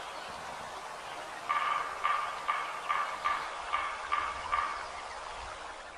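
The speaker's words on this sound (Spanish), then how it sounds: "Viene el sonido de un pájaro carpintero." A woodpecker calls in a steady series of about eight short, evenly spaced notes, moderately close, against a quiet outdoor background.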